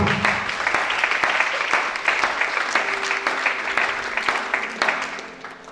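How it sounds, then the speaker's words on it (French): A church congregation applauding and cheering for the King of Kings during a worship service, steady dense clapping with a faint tone in the background, loud and continuous. "Acclamons pour le roi de roi."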